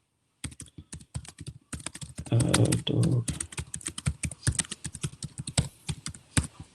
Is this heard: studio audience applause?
no